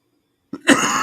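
A man gives a short, sharp cough close to the microphone after a brief near-silence, the burst rough and breathy with a raspy tail, heard alone.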